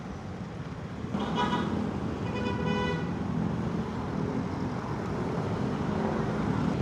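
Road traffic moves along Marcos Highway with a steady engine and road hum, and a car horn toots a couple of times in the first seconds.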